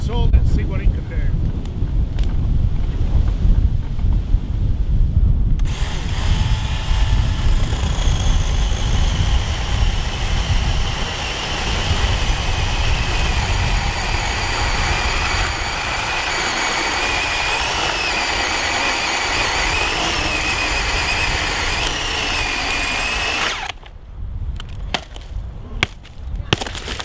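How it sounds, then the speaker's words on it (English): A cordless lithium-ion chainsaw bites through a large wet log. A steady, high motor whine runs under gusty wind noise for most of the stretch, then cuts off near the end. "so that was a really good test for the chainsaw"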